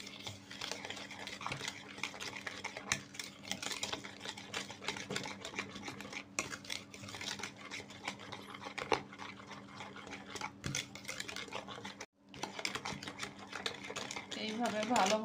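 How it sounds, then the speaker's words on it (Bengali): A semolina batter with powdered milk is whisked briskly in a bowl, rapid rhythmic tapping and scraping clicks continuing steadily with one brief pause near the end, fairly quiet. "এখন আবারও আমি ভালোভাবে ফেটিয়ে নেব।"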